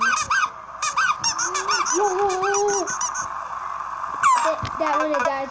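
Baby duck sounds from the Crossy Road video game play as a run of bright, repeated honking quacks with tonal game effects, loud and close, with a brief glitchy burst near the end.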